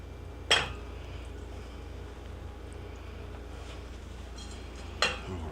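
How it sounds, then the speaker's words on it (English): A spoon clinks against the side of a pot twice while molasses and sugar are stirred into baked beans, sharp brief knocks over a low steady background hum. "getting that molasses and sugar stirred in"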